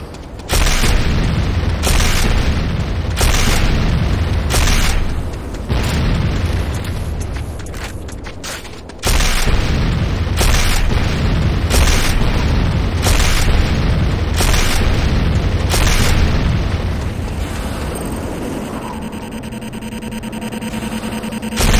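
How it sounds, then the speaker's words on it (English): C4 explosives detonate in Command & Conquer Renegade, heavy booming blasts repeating in roughly regular bursts, loud and dense, with a brief break midway before the rumble fades into a quieter tail. "C4 is set. Fire in the hole!"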